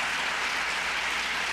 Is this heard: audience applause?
yes